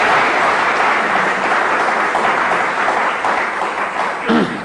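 An audience at an interview gathering applauds, steady sustained clapping throughout, with a brief voice near the end as the clapping fades.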